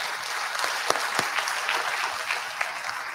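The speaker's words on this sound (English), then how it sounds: "I'd like to ask all of you to join me in giving a round of applause to our" An audience applauds the panelists at the end of a forum session on financing climate resilience for industry: dense, steady clapping from many hands that holds evenly throughout.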